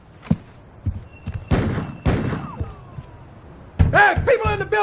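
Gunshots fired up through an apartment ceiling by a neighbor at 1 a.m. in an animated sitcom: several sharp, loud bangs spaced over a few seconds, followed by a voice speaking.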